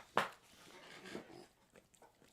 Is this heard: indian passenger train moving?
no